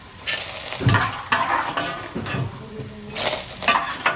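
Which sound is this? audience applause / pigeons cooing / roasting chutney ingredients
roasting chutney ingredients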